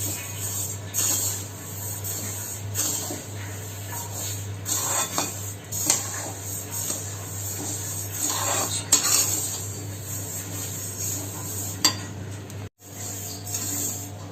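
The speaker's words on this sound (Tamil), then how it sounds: "இந்த கேழ்வரகை நல்லா கொட்டிட்டு இது கொஞ்சம் வறுக்கணும்." Finger millet (ragi) dry-roasting in a hot kadai: a ladle scrapes and stirs continuously, with occasional metallic clinks over a steady low hum, close and moderately loud.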